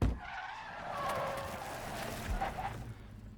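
A truck skids to a stop in the movie Twisters: a loud, sustained tire skid with rumbling engine noise runs for about three seconds, close and harsh, with a brief surge near the end.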